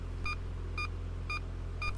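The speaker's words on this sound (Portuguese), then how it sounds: "informa por meio da variação da frequência e do tom de um bip característico a distância até ele." Parking sensor on an Omega CD / Holden Commodore sounding four evenly spaced short electronic beeps while reversing, each a clear mid-pitched tone roughly half a second apart over a steady low engine rumble.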